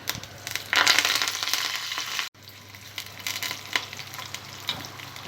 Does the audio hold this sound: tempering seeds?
yes